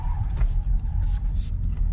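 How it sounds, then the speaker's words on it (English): A Ford car's engine runs during stunt driving on a course, a steady low rumble holding throughout with a faint voice briefly in the background. "Me and Debo, little stunt driving."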